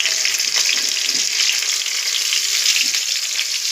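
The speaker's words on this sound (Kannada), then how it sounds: "ಸೊ ಇದಾದಮೇಲೆ ಟೊಮೊಟೊ ಹಾಕ್ತಾಯಿದ್ದೀನಿ." Chopped tomatoes go into onions frying in a pan for biryani, giving a steady close sizzle with occasional stirring scrapes and crackles and no talking.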